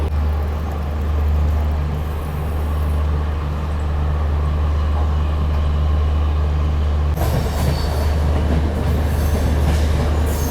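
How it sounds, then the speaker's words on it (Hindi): Amritsar Swarna Shatabdi Express pulling away, a steady low rumble of wheels and rolling stock that thickens and grows louder toward the end as another train passes close alongside. "ये देखो अभी अपनी ट्रेन जस्ट बगल से निकल रही है"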